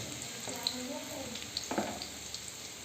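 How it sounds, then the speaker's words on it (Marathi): Garlic fries in a pan for besan pithla and gets stirred, giving a soft, continuous sizzle broken by a few light scraping stir strokes nearby. "आता याच्यानंतर लसूण सोडा त्याला हलवून घेऊ लाल तळायचं"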